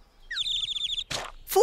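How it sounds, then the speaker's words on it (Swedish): Bird chirping in a children's programme: a quick run of high, warbling tweets lasting under a second, fairly close and clear, followed by brief bursts of noise. "Var är fågeln? Titta! Där! Fågel!"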